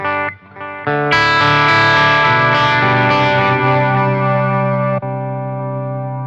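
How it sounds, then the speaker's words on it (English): An electric guitar runs through the digital delay effect of a Zoom G5 multi-effects processor. Sustained chords ring loudly with lush, trailing repeats that slowly decay, with no talking. "That's a digital delay."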